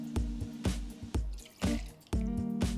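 Plantation 3-Star rum pours into a cocktail shaker for a shaken piña colada, heard as a few close, wet glugs and drips splashing in short uneven bursts, with no talking.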